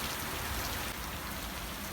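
Heavy rain pouring steadily onto a garden that is filling with puddles, a dense, even hiss of drops with no break, fairly loud and close, with no voices.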